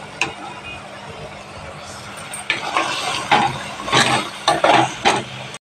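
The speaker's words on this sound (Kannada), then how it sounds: "ಇವಾಗ ಈ ಕಾಯಿ ಮಸಾಲೆ ಹಾಕ್ಕೊಳ್ಳೋಣ, ಕಾಯಿ ಗಸಗಸೆ ಹಾಕ್ಕೊಂಡು ಚೆನ್ನಾಗಿ ಫ್ರೈ ಮಾಡ್ಕೊಳ್ಳೋಣ." Coconut and poppy seed masala fries in a pan for a mutton sambar, a low sizzle under repeated scraping strokes of a spoon that grow louder and choppier toward the end, with a voice speaking over it.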